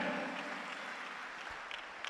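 A church congregation claps in praise during a live-streamed service, a quiet, even spatter of many hands clapping at once, with no voices over it.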